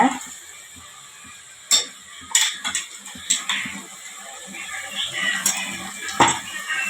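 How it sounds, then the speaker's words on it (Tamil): Ground spice powder being stirred into a paste in a pan for chicken curry, with scattered clinks of a spoon against the pan and light scraping over soft background noise. "பொடியை போட்டு அது ஒரு ரெண்டு நிமிஷம் அப்படியே கலரணும்"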